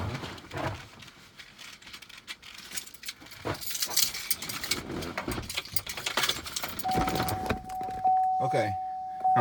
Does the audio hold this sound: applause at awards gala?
no